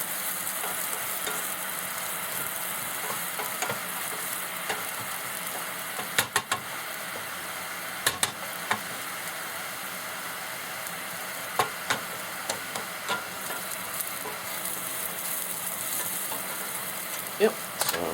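Noodles and leek frying lightly in a pan on a hot plate, giving a steady, close hiss of sizzling with occasional sharp clicks and scrapes from stirring.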